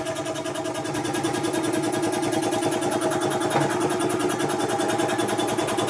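A repaired air compressor motor runs steadily, a constant mechanical drone with a rapid pulsing rattle, close and unbroken, with no talking.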